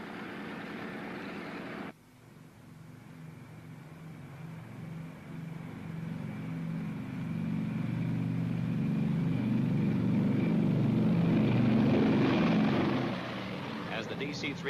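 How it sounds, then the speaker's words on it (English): A DC-3 airliner's propeller engines idle, then build to a steady, swelling drone at the end of a runway before take-off, a voice narrating over it throughout. "The DC-3, engines idling, stood by at the end of the runway"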